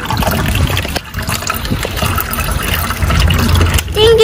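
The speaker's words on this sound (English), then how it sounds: "Now we're gonna put water in it." Water pours into a bottle for a homemade lava lamp experiment, a loud close trickling and gushing fill that runs steadily throughout, with voices talking over it.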